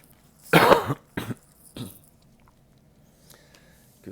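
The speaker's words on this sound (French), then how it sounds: "Que ça fait mal quand je tousse" A woman gives one harsh, close cough followed by two smaller coughs or throat-clearing sounds, then quiet room tone with a faint clink near the end.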